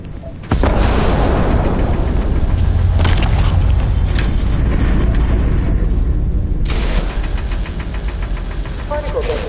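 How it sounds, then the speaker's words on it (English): Particle detonation explosion in the Starfield video game, a sudden loud deep boom that rolls into a sustained heavy rumble with rattling tremors for several seconds before easing slightly, then a fresh burst of crackling noise. "Particle detonation completed."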